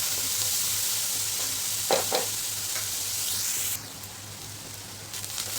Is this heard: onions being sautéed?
yes